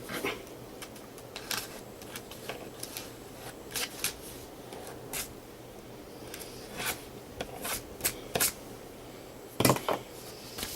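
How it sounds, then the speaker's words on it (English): An X-Acto knife slices the edge off plastic comic book packaging, giving quiet, intermittent scrapes and crisp little snicks with a few sharper clicks, close by and with no talking. "get Mr. Exacto. Let me cut the edge off of this real quick."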